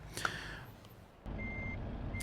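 In Euro Truck Simulator 2, a truck backing up sounds a steady series of high, evenly spaced reversing beeps over a low engine rumble that grows louder midway.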